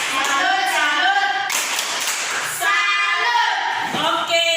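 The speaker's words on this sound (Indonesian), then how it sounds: "kita tepuk tangan untuk Nova" A classroom of pupils claps for a classmate named Nova, a loud and dense patter of applause heard up close while children's voices chant over it.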